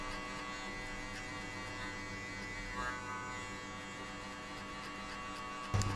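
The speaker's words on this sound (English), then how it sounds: "So also flick the clipper out." An electric hair clipper buzzes continuously and faintly during a skin fade haircut, a steady electric hum with a small bump near the end and no talk.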